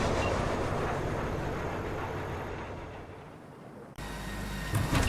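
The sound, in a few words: train leaving, in the video game Cyberpunk 2077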